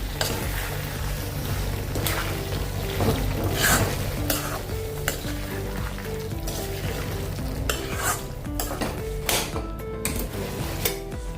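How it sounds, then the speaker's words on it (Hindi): Lotus stem pieces are stirred into cooked masala in a pan, with a continuous close sizzle of frying under repeated spatula scrapes and knocks against the metal. "अभी इसमें हम अपनी सब्जी डाल देंगे। इसको ऐसे मिला लेंगे अभी।"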